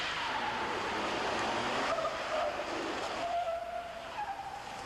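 A stunt truck tears through a hair-raising movie chase, tires squealing and skidding over a roaring engine, loud and sustained before the screech fades and a higher whine trails off.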